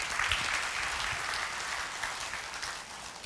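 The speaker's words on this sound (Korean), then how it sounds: "여러분 뜨거운 박수 맞아주시기 바랍니다" A church congregation claps warmly for someone coming up to speak, a steady wash of applause at moderate distance that gradually thins toward the end, with no talk.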